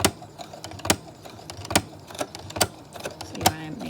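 A sewing machine fitted with a walking foot feeds pleated fabric, its needle clattering in soft, uneven ticks and thumps, fairly faint and close.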